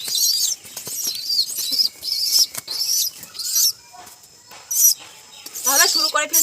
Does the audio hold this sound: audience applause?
no